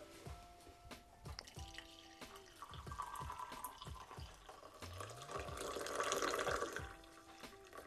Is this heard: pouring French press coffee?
yes